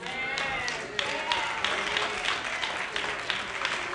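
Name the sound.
scattered hand claps from church audience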